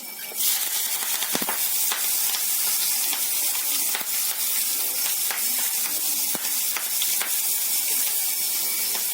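Asafoetida, green chillies and curry leaves sizzling loudly in hot oil in a pan for rice-ball upma, a dense, continuous close hiss with scattered sharp spits and pops.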